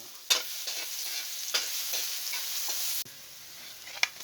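Garlic sautéing in a hot pan hisses steadily up close, broken by sharp scraping stirs; the sizzle drops off abruptly partway through and then carries on more quietly with one last clack.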